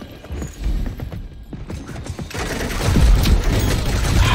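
Gunfire in the shooter game Rogue Company: rapid clattering bursts of automatic fire that grow louder and denser toward the end, with no talk over them.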